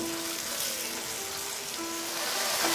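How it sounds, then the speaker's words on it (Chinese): Snow peas and fish balls stir-fried in a wok over high heat, a steady dense sizzle like rain throughout with a faint constant tone underneath, no talking. "用大火快速翻炒"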